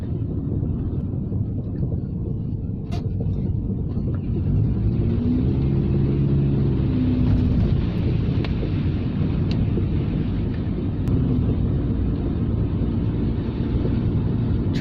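A car on all-season tyres drives slowly through slush and snow on a wintry road, a continuous low rumbling road and engine noise with wind buffeting and occasional light clicks.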